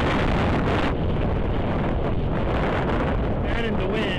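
Heavy wind roars over the microphone during an outdoor ride on a road, a constant loud buffeting that covers everything else.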